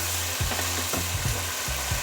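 Chicken and potato pieces sizzle and crackle steadily in hot oil while being fried for a chicken-and-potato shorba, with a few louder scraping stirs breaking through at regular intervals, close and with no voices.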